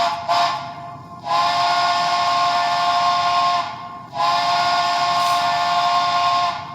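A Lehigh and New England three-chime steam whistle sounds in loud, breathy chords. A short toot is followed by two long sustained blasts with brief gaps between, all over a hiss of steam.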